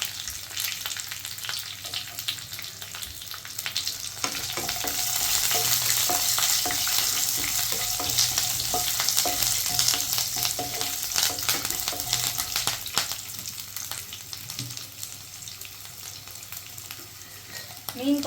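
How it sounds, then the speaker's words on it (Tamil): Ten garlic cloves fry in hot oil for a Tamil-style fish curry, giving a steady, close sizzle with frequent stirring scrapes that swell in the middle and continue throughout, with no talk. "பத்து கல் பூண்டு போட்டுக்கலாம்"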